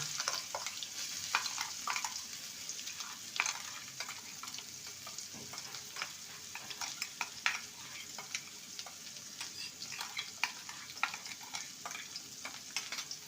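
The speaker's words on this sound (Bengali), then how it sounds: "পেঁয়াজটাকে ভেজে নিয়েছি একদম লাল করে ভাজিনি এবার থরের মিশ্রণটা দিয়ে দেব" A banana stem mixture sizzles quietly after being added to lightly fried onions, with frequent light taps and scrapes as it is stirred, heard close and without talk.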